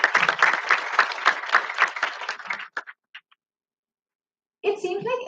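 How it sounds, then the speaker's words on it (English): Applause for the presenters after a startup pitch, dense clapping for over two seconds that thins out into a few scattered claps, then silence before a voice begins speaking. "a big round of applause for Mr. Sanjay Pekam and Mr. Dinesh Raman"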